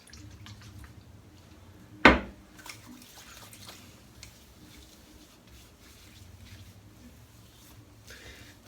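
Nivea aftershave splashed by hand onto a freshly shaved head: one sharp, close wet slap, then quieter faint rustling and dabbing.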